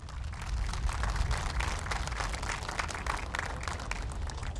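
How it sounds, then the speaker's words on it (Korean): A crowd at South Korea's 2021 national counter-terrorism training event applauds to welcome guest instructors, dense and continuous clapping from many hands that stays loud and even throughout with no speech. "여러분 박수로 환영해 주십시오."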